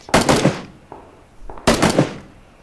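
Two close bursts of rapid gunfire in the video game Battlegrounds, each a quick cluster of sharp cracks with a short ringing tail. A faint, softer shot falls between them.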